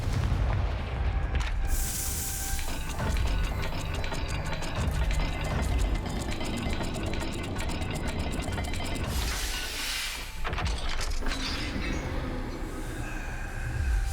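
Confringo explosive spell cast in Hogwarts Legacy, a dense sustained rumbling blast with heavy low-end booms and crackling debris, loud and continuous, briefly dropping out before surging again.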